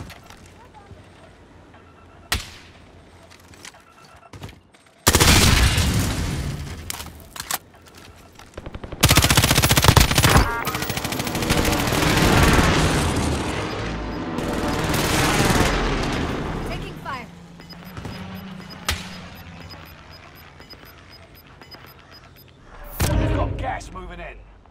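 Sustained automatic gunfire and heavy blasts in Call of Duty Warzone, loud and dense in long bursts with booming impacts, a few sharp isolated shots before and after, and a voice speaking over the battle.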